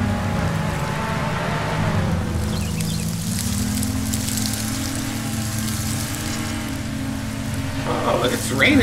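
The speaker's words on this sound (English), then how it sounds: "Raining and that sun shining, huh?" Rain falls on a moving car, a steady hiss of drops over the low rumble of the engine and road, continuous and fairly close throughout.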